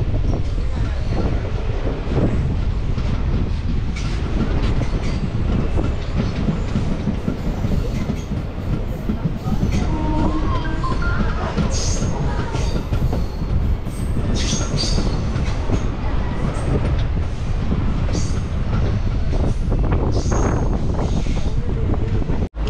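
Passenger train on the Darjeeling to Kolkata line, moving from single track onto the main line near Aluabari, rumbles steadily and loudly throughout with clattering wheels, occasional squeals and wind buffeting the microphone.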